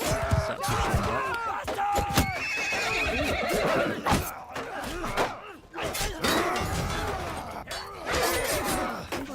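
Horses in the Mount and Blade Bannerlord battle game, with repeated loud neighs and whinnies over clattering hooves, thuds and clashing combat noise in a dense, busy mix.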